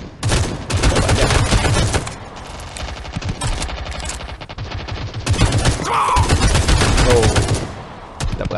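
Rapid bursts of gunfire from the mobile shooter Modern Strike Online, loud and close, with repeated volleys and short pauses across the whole stretch.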